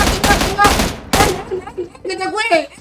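Gunfire in the video game PUBG Mobile cracks out in rapid bursts, several sharp volleys in quick succession. Players talk over and between the shots.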